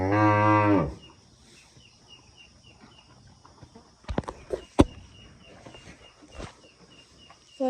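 A cow on a farm lets out one loud, close moo at the start, followed by quiet surroundings with a few sharp knocks and faint rustling.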